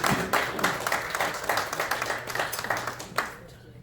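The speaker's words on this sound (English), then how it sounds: "Let's give her a big round of applause." An audience at a Q&A talk about the Mission to Seafarers claps in a steady patter of applause lasting several seconds, tapering off near the end.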